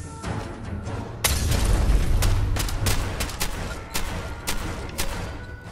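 Grenade blasts in Fallout 4 combat: a heavy booming explosion followed by a rapid series of sharp cracking gunshots and impacts, loud and close, with no talk.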